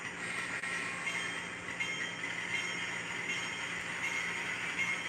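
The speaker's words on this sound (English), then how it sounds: "So little S2 can pull out and get our freight onto the main line." A small model S2 locomotive pulls freight cars out onto the main line of a layout, a steady, low whirring rumble with faint hiss that continues evenly throughout, no voices.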